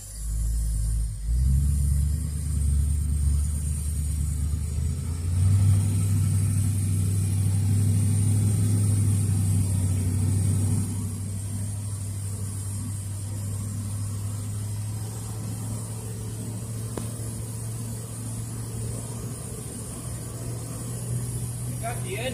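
A classic Ford Fairlane engine, recently tuned up with a new exhaust, hums steadily while driving, a low droning tone that drops slightly partway through, with continuous road rumble.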